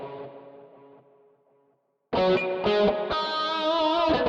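Electric guitar played through a Quad Cortex preset with chorus: a clean, shimmering ringing phrase fades to silence, then a louder, fuller strummed passage of sustained chords enters abruptly, no talk.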